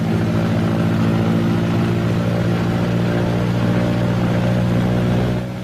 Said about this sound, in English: Next is the engine run-up and prop check, one engine at a time